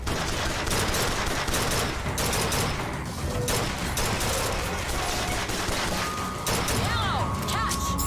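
Heavy gunfire rages in a Bioshock Infinite fight, rapid overlapping shots and machine-gun bursts pounding throughout, with game voices and a few tonal effects heard beneath the barrage.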